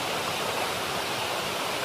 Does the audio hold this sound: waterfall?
yes